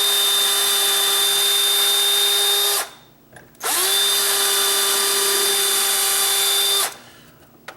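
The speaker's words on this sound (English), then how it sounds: "I'm just going to go a little bit at a time and back it out, and then that takes the wood out because this is such a small drill bit." A power drill with a small bit bores pilot holes into a wooden cabinet face frame: a high, steady motor whine runs for about three seconds, stops briefly, then starts again and runs another three seconds before cutting off.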